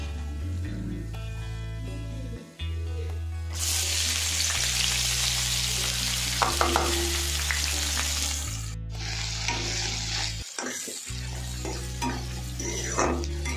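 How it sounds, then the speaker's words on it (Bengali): Chopped onions dropped into hot oil with whole garam masala for coriander chicken, setting off a loud, sustained hiss and sizzle with stirring scrapes, heard close over a steady low background hum. "এই পেঁয়াজ কুচোনোটা আমি এর মধ্যে দিয়ে দেবো"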